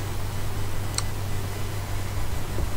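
A steady electric fan hums and hisses in the background of a room, a constant low drone with broadband whoosh throughout and no speech.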